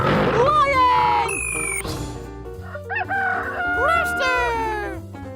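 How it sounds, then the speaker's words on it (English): A rooster crows several times in bright, rising calls amid playful children's cartoon music and sound effects, loud and close. "Rooster!"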